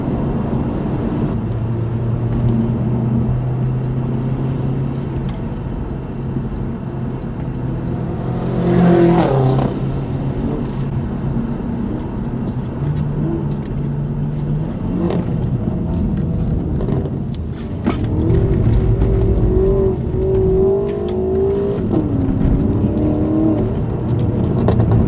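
An Alfa Romeo is driven hard around the Llandow circuit in Wales on a track day, its engine droning and revving steadily throughout with a surge near the middle and tyre noise, no talking.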